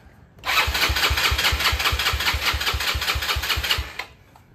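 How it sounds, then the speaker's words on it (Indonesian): Yamaha Mio scooter with a bored-up 58 mm engine cranked on the starter, a steady rapid chugging churn at close range lasting several seconds before it cuts off, with no talking. "kita menyalakan mesin."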